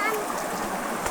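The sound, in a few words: river stream flowing beside a campsite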